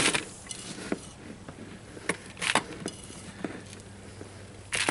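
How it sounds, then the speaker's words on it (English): Potting soil is scooped into a plant container with drainage holes for bok choy, producing irregular scraping, rustling and dull knocks, fairly close, with a brief louder burst near the end. "Let me fill it up with some dirt now."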